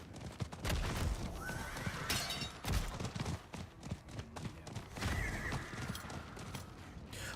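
A horse neighs in the action role-playing game Diablo 4, whinnying through a busy mix of clip-clopping hooves, creaks and combat noise at moderate level.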